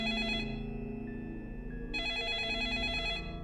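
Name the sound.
phone ringing in video game 428: Shibuya Scramble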